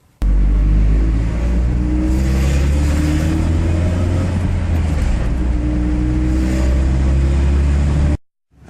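A car drives along with its engine running, a steady low rumble with slight rises in revs, close and continuous until it cuts off abruptly.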